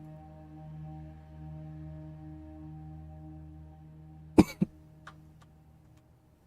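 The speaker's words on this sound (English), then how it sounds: "Sorry about not catching that cough." A single sharp cough, followed moments later by a smaller second cough, cuts through a quiet room with a low steady hum beneath.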